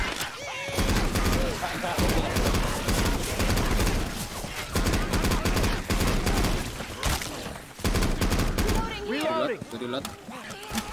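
Dense, rapid gunfire from the video game Left 4 Dead 2 rattles in near-continuous bursts, loud and close, with short gaps between volleys and a player talking over it.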